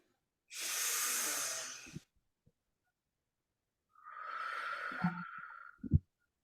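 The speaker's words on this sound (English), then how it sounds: "take a deep breath in" A deep breath is drawn in with a long airy hiss, followed by a pause and then a slower, softer exhale ending in a small puff, close and quiet with nothing else around.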